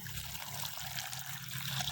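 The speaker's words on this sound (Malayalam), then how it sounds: "ഞാൻ ഇനി വെള്ളം അടിക്കാൻ പോവാണ് ഗായ്സ്." A steady stream of water being pumped in for pearl spot fish, a continuous broad hiss with no talking, holding even from start to finish.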